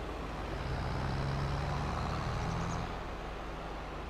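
A car in the Farming Simulator 22 video game approaching on a country road, a steady engine and road rumble that swells and then eases, with no talk.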